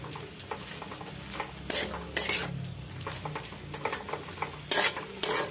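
A spoon scrapes and clinks around a pan of saag greens frying with potatoes, soft sizzling underneath and sharp metallic taps at intervals, close and fairly quiet.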